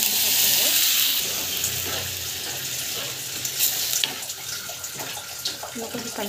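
Water poured into a hot cooking pan sends up a loud burst of hissing steam that fades into a bubbling, stirred simmer with small clinks, close by.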